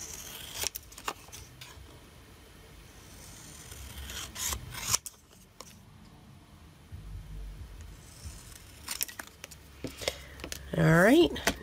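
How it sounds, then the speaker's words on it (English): Scissors snip and rasp through paper being trimmed for a handmade journal, a run of close, dry cuts and rustles with quiet pauses between them and a short sharper scrape near the end. "I'm just going to come in with my scissors"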